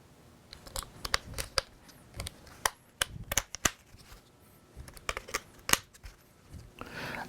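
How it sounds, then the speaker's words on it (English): Plastic dashboard trim snapping back into place on a 2018-2019 Can-Am Spyder RT, a series of sharp, close clicks and snaps in irregular bursts with brief pauses between, no talking. "And now we put back the trim."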